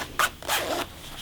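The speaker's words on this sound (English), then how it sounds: "I'm going to zip up my zipper" An invisible zipper on freshly sewn fabric is pulled closed in two quick, close zips, each a short bright rasp with a brief pause between.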